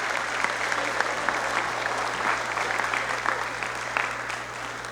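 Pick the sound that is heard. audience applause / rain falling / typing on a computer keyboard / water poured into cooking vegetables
audience applause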